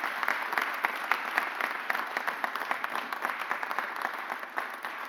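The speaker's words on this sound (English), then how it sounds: "Give them a round of applause, please." Steady applause from the audience at a mayor's press conference, many hands clapping at an even, moderate level from start to finish with crisp individual claps standing out and no voices on top.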